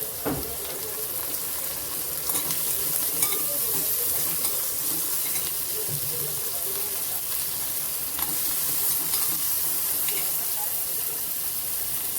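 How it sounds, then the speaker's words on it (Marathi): Cauliflower manchurian being sautéed in a pan, giving a steady, moderate sizzle with occasional soft clinks and scrapes of stirring, close by and continuous for several seconds, with no talking. "हे काय आपल्याला खूप काही परतायचं नाही आहे थोडं थोडं परतायचं आहे"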